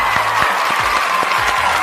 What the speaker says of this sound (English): Give it applause, everybody.